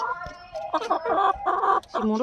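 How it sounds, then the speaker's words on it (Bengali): A native village rooster clucks and squawks in quick, agitated bursts close by, its harsh calls rising and falling in an irregular run. "এই যে আমার দেশি মোরগ"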